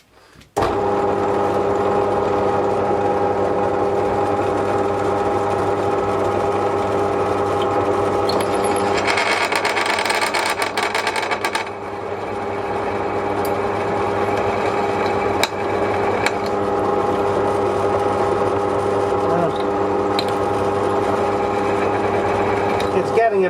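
A drill press runs steadily with an oiled bit boring into metal, a constant motor hum with harmonic whine throughout and a brief harsher grinding burst midway, loud and close.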